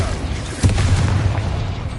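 A Bombarda blast spell detonating in Hogwarts Legacy, a single boom with a low rumble that sustains for about a second, heard up close over continuous game background noise.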